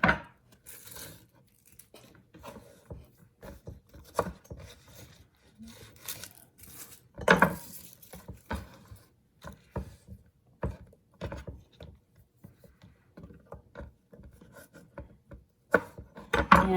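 A knife trims rinsed, cleaned vegetables for roasting, making irregular close-up chops, taps and light scraping on a board, with quiet gaps between the cuts.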